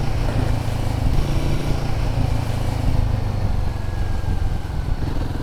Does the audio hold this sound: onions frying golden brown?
no